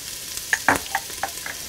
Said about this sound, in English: Sweat the vegetables for 6 to 8 minutes on medium to medium low without coloring the vegetables.